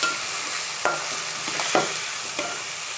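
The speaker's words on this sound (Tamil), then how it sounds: "இப்போ நம்ம தக்காளி போட்டுக்கலாம்" Tomato frying in oil in a pan after onions and mustard seeds, a steady hiss and sizzle with a few sharp scraping stirs from a spoon, close up with no voices.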